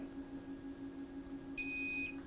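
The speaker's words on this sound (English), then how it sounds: "you hear that beep, cruise control activated" A short, bright electronic beep from a Hovsco YD101 electric scooter activating cruise control, lasting about half a second, standing out clearly over a steady low electric hum.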